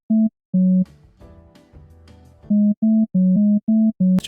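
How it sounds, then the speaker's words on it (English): Simple synth bass built from a sine wave with harmonics plays short, evenly spaced tones in a rhythmic pattern, with a brief break of other softer musical sounds in the middle. "It's just a sine wave with some harmonics."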